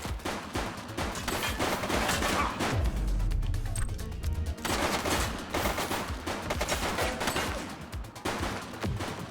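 Police shootout in The Precinct, with bursts of rapid gunfire and sharp cracking shots coming in clusters over several seconds. A heavy low impact lands midway, and the firing resumes densely afterward.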